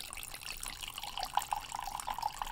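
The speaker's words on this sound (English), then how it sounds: "Let's just pour a little bit for starters." Italian Chianti red wine poured into a glass: a brief, steady liquid stream with gurgling splashes, close and alone for a couple of seconds.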